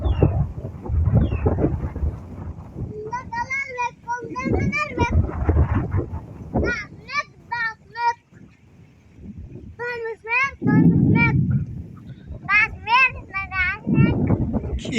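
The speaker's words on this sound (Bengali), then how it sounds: "বাতাসটা প্রচন্ড" Strong wind under dark storm clouds buffets the microphone outdoors in heavy low gusts that come and go, while a voice and other voices talk over it.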